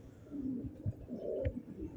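A stray racing pigeon coos nearby, several soft low throaty notes in a quick rolling rhythm.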